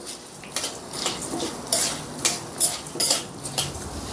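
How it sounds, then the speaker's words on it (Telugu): A metal spoon stirs chana dal as it roasts in a pan, giving loud, close scraping and clinking strokes in an uneven rhythm against a quiet background, with no talking. "మనం పప్పు దినుసులు వేపేటప్పుడు ఎప్పుడైనా కూడా ఇలా కలుపుకుంటూ ఉండాలన్నమాట"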